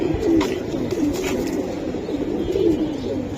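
Chikon star silver Giribaz pigeons coo in low, rolling murmurs close up, a continuous throaty burble amid a busy, noisy background.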